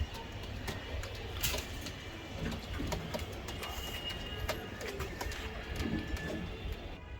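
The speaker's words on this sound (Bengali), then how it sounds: "সেই কোয়ালিটির কবুতর" Giribaz racing pigeons coo softly in a loft, their low murmuring calls faint and steady beneath a light wash of background noise.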